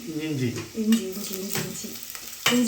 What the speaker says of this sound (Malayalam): അപ്പോൾ വെളുത്തുള്ളിയൊക്കെ ഇട്ട് ഒന്ന് വഴറ്റിയെടുത്ത്